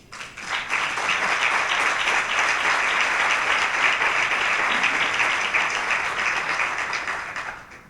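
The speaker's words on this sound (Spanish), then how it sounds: "Por favor, un aplauso para Eva Vaz." Audience applause for the poet Eva Vaz at a tuna-trap festival proclamation event, a dense, steady round of clapping that swells quickly and holds for several seconds before easing slightly at the end.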